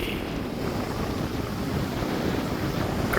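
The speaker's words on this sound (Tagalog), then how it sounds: "Grabe lakas ng alon." Strong ocean surf at Half Moon Bay, Antigua, a loud, continuous roar of rough waves mixed with wind buffeting the microphone, steady throughout with no voices.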